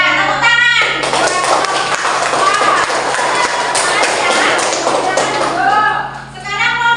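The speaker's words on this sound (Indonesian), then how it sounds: "Iya, tepuk tangan." A classroom group claps hands together, a burst of sharp, fairly loud rhythmic claps in the middle with students' voices and chatter before and after.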